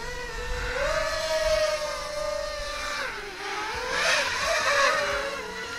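An Eachine Tyro 99 FPV drone flying on a 3S battery gives a steady high-pitched motor whine that rises and dips as the throttle changes, loud and continuous with no talking.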